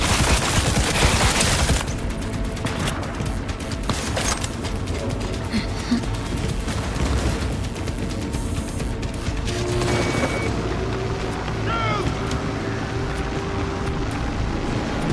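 Sustained automatic gunfire from an autonomous shooting system in the Cyberpunk 2077 video game, loud and dense for the first couple of seconds, then settling into continuous rumbling combat noise with distant pops and electronic tones.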